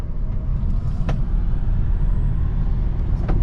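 Steady low rumble and road noise from a Tesla Model 3 Performance electric car cruising on a highway, heard from inside the cabin as a continuous drone with no speech.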